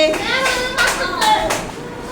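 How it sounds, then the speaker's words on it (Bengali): Children in a first-grade Bangla class clap together in a few sharp bursts, mixed with young voices chattering close by. "হ্যাঁ, জোরে তালি।"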